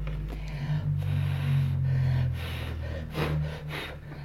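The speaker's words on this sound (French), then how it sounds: "Je vais souffler dessus pour enlever l'excédent de poudre, de pigment qui s'est déposé." A close breath of air blown across paper to clear away excess pigment powder, a soft continuous whooshing exhale lasting a few seconds with a low hum underneath and small rustles.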